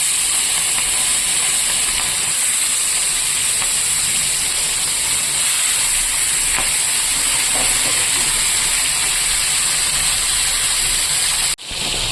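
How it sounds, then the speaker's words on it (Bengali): Prawns fry lightly in hot oil with a loud, dense, unbroken hiss that holds steady throughout and cuts off abruptly just before the end. No voices are heard. "এবার তেল গরম হয়ে গেছে এবার আমি চিংড়ি মাছগুলোকে ভেজে নেবো হালকা"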